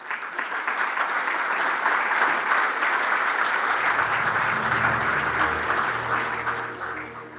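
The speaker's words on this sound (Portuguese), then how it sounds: "peço-vos o aplauso, por favor, para o Miguel Santos." Audience at a safety event award ceremony clapping in sustained, dense applause that builds and then tapers off near the end, with no speech over it.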